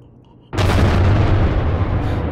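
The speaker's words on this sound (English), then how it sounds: "A small vent, a few sticks of dynamite, and a minor explosion." A few sticks of dynamite blow a small vent in the video game Call of Cthulhu: Dark Corners of the Earth, a sudden loud blast after a quiet moment, followed by a sustained roaring rumble.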